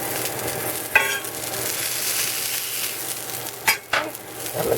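Spicy sausage frying in its own fat in a pan, a steady close sizzle with a few sharp clinks and scrapes of a utensil against the pan, no talking.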